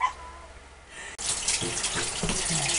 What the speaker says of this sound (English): Oh, you're rinsing your hands.